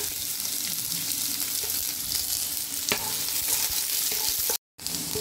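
Onions fry until brown in a pan for Bengali khichuri, a dense, even hiss of sizzling oil with faint stirring scrapes, close and constant, broken by a brief dropout near the end.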